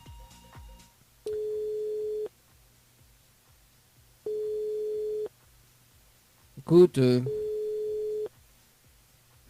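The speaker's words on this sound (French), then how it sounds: "Et ben ça sonne." A repeating telephone ring tone on a radio call-in line, three steady one-second bursts spaced about two seconds apart, fairly loud, with a brief voice speaking over the last ring.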